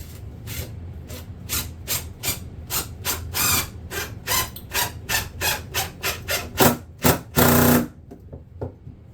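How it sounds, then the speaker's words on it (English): An impact driver sinks a 3-inch deck screw into a broken wooden stool being repaired, set to torque 25, giving a rapid series of close, loud hammering bursts that end in a longer, harsher burst near the end. "Get the impact driver with a 3-inch deck screw with the torque 25."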